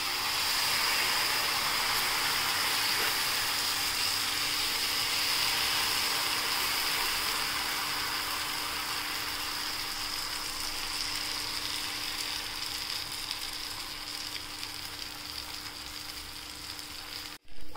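Finger millet (ragi) dosa batter sizzles on an oiled griddle with a steady, soft frying hiss that runs continuously and eases slightly toward the end.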